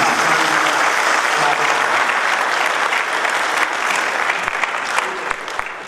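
Loud, sustained applause from a theatre audience at a Ranchi drama festival, steady dense clapping throughout, easing slightly toward the end.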